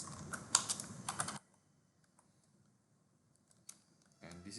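Fast clattering keystrokes on a computer keyboard, close and clear for about a second, then near silence with a couple of faint taps before a voice starts speaking at the end.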